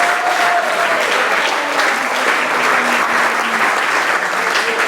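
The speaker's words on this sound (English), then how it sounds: "Quite a big round of applause for Alwyn." Sustained, loud applause fills the room at a junior football club awards ceremony, a dense crowd clapping steadily throughout with no voices standing out.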